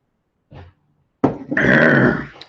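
A dog gives a short low grumble, then a louder, sustained growl up close that rises into a rough snarl, alone without voices.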